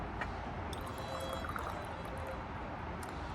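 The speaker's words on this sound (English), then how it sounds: "Pour a little cup of tea for you," Tea pours steadily from a pot into a cup at an autumn tea table in Edinburgh, a continuous close-up trickle and splash that runs unbroken for a few seconds with no talk over it.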